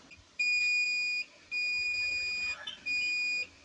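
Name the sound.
electric buzzer sounding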